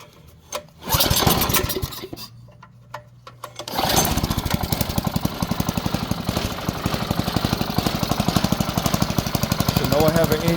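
A Briggs and Stratton overhead-valve small engine, replacing a Tecumseh, sputters through a few start attempts, then catches and runs steadily with a loud, fast, even chugging beat.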